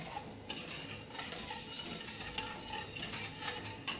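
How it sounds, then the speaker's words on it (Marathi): Sugar syrup being stirred in a kadhai over a low gas flame, a steady scraping and swishing of spoon against metal with faint bubbling, continuous and close throughout. "आता या पाकाला आपण असं कमी गॅसवर हलवत राहायचं"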